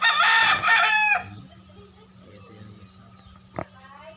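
A hybrid rooster crows loudly close by for about a second, followed by quieter barnyard ambience with a low steady hum and a brief sharp sound near the end.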